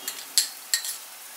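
Spices with turmeric, salt and tomato puree being stirred and fried in a pan, three quiet scraping strokes of a spatula with a faint sizzle between them, close and otherwise calm.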